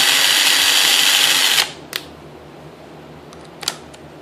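A DeWalt impact driver runs after reassembly, a loud high-pitched motor whir for about a second and a half that stops abruptly, followed by two brief faint clicks.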